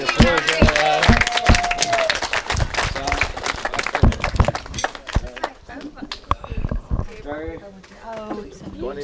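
Wedding guests at a venue in Ibiza clapping during a speech, a burst of applause mixed with talk and laughter that fades into continued speaking.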